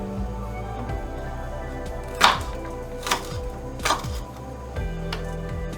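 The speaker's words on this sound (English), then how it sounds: "I'm just gonna chop these up, cook them up, throw the soup on them" A knife chops green beans in a home kitchen with four sharp, spaced strokes on a board over a low background hum.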